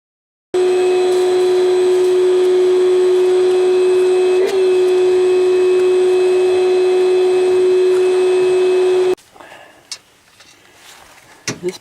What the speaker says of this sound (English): I need to vacuum this area up